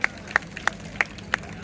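Five slow, evenly spaced claps from an audience at a devotional scene at the Shri Khemvardan Devi palkhi, each a single sharp slap over a quiet murmuring background.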